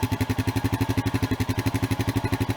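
A stock Honda Rancher ATV engine with unmodified exhaust idles at close range with a fast, even putter, steady and unchanging throughout.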